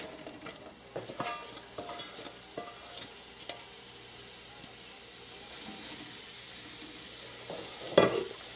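Sliced onions sizzle in oil in a small soup pot on medium-high heat. Stirring clatters and scrapes come near the start, then a steady hiss of frying, and one sharp knock sounds near the end.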